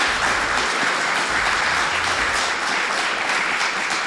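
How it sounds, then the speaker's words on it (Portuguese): A studio audience claps for the guests of a Portuguese political comedy talk show, a steady, dense wash of applause sustained throughout without talk. "Salva de palmas para os convidados."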